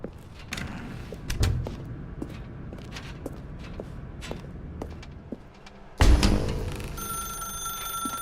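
A telephone rings in The Stanley Parable video game, a repeated bell tone over a quiet room with a few soft footsteps, then a louder burst of sound near the end.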